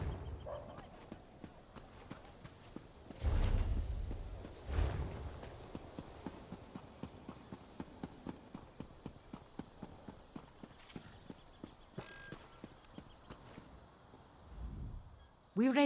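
Horse hooves clip-clop in a steady rhythm in The Elder Scrolls Online, moderately close and even-paced, with a few louder thuds along the way and faint crickets behind.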